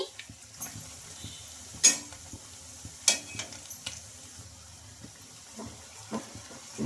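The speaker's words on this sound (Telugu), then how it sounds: "అడ్జస్ట్ చేసుకుంటూ వీటిని అయితే ఫ్రై చేసుకోవాలండి" Poha punugulu fritters fry in oil with a soft, quiet hiss, broken by occasional sharp clinks and taps of a utensil against the pan.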